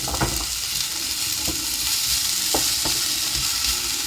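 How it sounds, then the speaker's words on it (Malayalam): Cut potatoes sizzle steadily in a frying pan of hot oil, with a few short clacks of a spoon stirring them, close up and without talking. "ചെറിയ രീതിയിൽ കട്ട് ചെയ്തെടുത്ത് നമ്മൾ ഉരുളക്കിഴങ്ങ് ഇതിലേക്ക് ഇട്ട് കൊടുക്കുന്നുണ്ട്"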